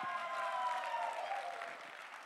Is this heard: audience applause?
yes